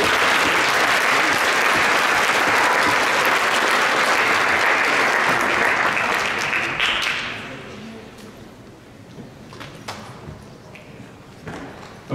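Crowd at a science fair awards ceremony gives sustained, even applause for several seconds, then it dies down to scattered claps and light room noise.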